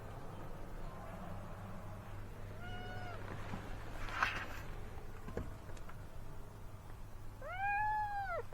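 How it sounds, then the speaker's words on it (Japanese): Two stray cat meows, one around the middle and a louder, clearer one near the end, over a steady low hum of outdoor background noise near Lake Tai in Wuxi, China. "こんなとこに猫います？普通。"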